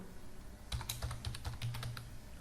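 Keys clatter in a quick burst of typing on a computer keyboard, a run of sharp clicks at close range with short pauses.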